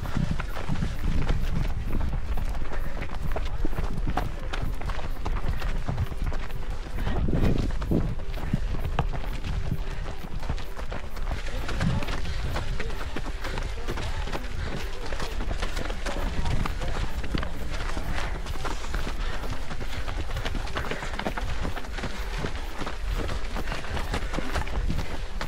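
A runner's footfalls thud in a steady, quick rhythm while running uphill during an outdoor 10K race, close and loud against constant wind and breathing noise.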